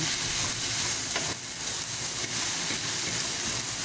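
Sliced banana heart is stirred through potatoes frying in a pan, a steady loud sizzle running throughout with faint scraping of the spatula underneath.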